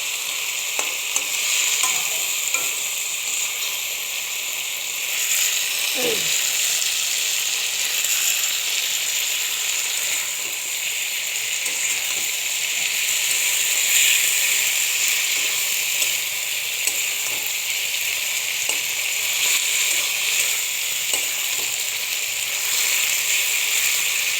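Chicken skin stir-fried in oil sizzles in a loud, continuous hiss close to the mic. A few faint utensil scrapes and taps come through, and no one talks.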